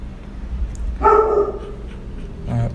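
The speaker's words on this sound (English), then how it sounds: "So she's gonna be barking for a while." A pet dog barks indoors during a character-design drawing lesson, one loud close bark burst near the middle followed by a shorter, softer yelp toward the end over low room hum.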